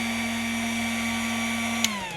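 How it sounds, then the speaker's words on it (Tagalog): A small blower fan on a 12-volt solar setup runs with a steady, even hum and whine, then its pitch drops slightly as it slows near the end after a brief click. "kining nagtingog niya blower man ni"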